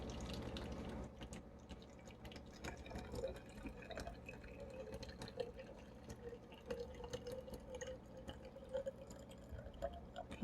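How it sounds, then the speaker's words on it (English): Water is poured steadily into a plastic sensory bottle, a continuous close trickling and gurgling that fills the bottle for about ten seconds with small splashy bubbles and drips, quiet and with no talking. "We're gonna add the water. And you just pour it in."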